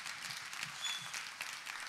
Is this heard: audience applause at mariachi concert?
yes